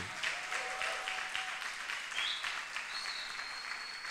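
A church congregation applauds more strongly during a Bible study gathering, continuous even clapping heard from a distance, with faint tonal whistles or feedback tones over it.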